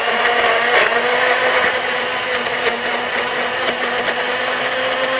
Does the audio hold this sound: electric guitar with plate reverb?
no